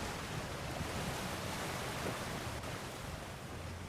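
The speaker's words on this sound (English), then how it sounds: "Sounds like you got the water moving along, brother." Flowing water in a God of War puzzle, heard as a steady, soft rushing wash of broadband noise, continuous and fairly faint with no talk.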